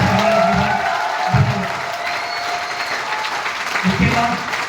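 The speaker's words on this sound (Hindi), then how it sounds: "तो मैं चाहता हूँ एक बार संजीव गुरु जी के एक बार जोरदार ताली हो जाए।" An audience at a motivational speech event on a Shimla trip applauds loudly and continuously, a dense wash of clapping with some crowd noise, while someone speaks briefly over it at moments.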